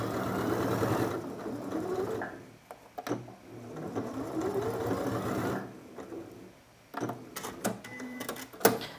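Sewing machine stitching a fabric spiral tube, close whirring runs of rapid needle strokes that rise and fall in speed, in several bursts separated by pauses with small clicks and handling noises.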